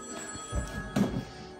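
A telephone rings indoors during a family New Year's gathering, a short ring burst near the microphone that stands out clearly over a quiet room.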